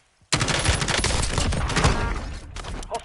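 Sudden burst of automatic gunfire in a video game, a loud, dense stream of rapid shots lasting about two seconds before tapering into a few scattered pops.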